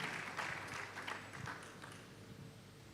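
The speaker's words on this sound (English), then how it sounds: "Let's have a round of applause for them." A conference audience claps in a quick, scattered burst that fades over a few seconds, heard at moderate distance without anyone speaking.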